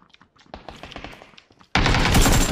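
Gunfire in the shooter game PUBG: a scattered run of sharp, distant-sounding shots, then a sudden loud, dense burst of close automatic fire that continues to the end.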